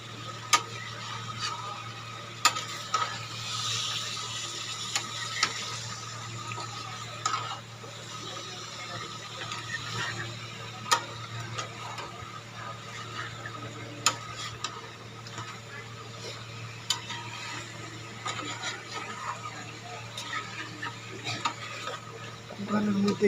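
A spicy curry is stirred in a pan over a constant low hum, with sharp intermittent clinks and scrapes of a spoon against the pan, close and fairly faint, while people talk now and then.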